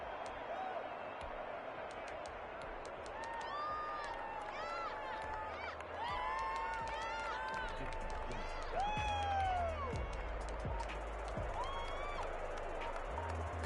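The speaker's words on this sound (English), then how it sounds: "this crowd loves it as their guys hold on the opening drive" Crowd noise at a football game in Madden 21 swells and rumbles steadily beneath energetic play-by-play commentary, with cheering rising and falling throughout.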